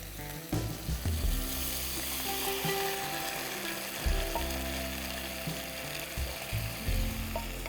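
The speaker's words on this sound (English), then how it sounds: "Then I'm going to add my coconut milk." Fish sauce and coconut milk sizzle loudly in a pan, a dense continuous frying hiss punctuated by clattering scrapes and knocks of utensils.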